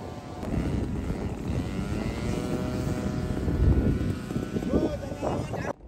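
Lanxiang model P40 Warhawk RC plane in flight over a flying field on a windy day, its steady electric motor and propeller drone droning continuously with a slight rise and fall, mixed with wind noise and a voice talking over it.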